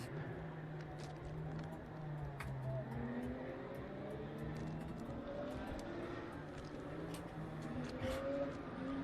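Porsche race cars on a formation lap at the Portimao circuit, a steady distant engine drone with faint shifting tones, continuous under a low background rumble, with no clear voices.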